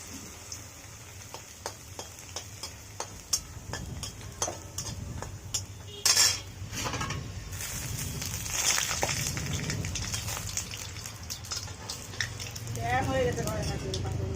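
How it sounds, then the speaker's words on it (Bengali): Papad (poppadoms) fry in hot oil in a pan with a soft, continuous sizzle punctuated by light clinks and scrapes of a utensil, close by in a home kitchen. "অল্প কয়েকটা পাপড় ছিল দিদির বাড়ি থেকে অনেকদিন আগে নিয়ে আসেন, আজকে শেষ। ভেজে নিই"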